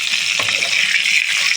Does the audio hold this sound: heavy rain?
no